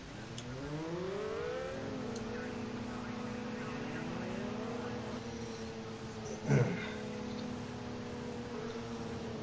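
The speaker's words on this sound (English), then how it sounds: "It's a Ferrari F130E 4-litre V12. A V12 engine sits in the back of this car, and it absolutely screams." A Ferrari F130E 4-litre V12 in a racing game wails at high revs with rising and falling tones as it shifts, steady and close, with a brief thump near the end and faint talk beneath.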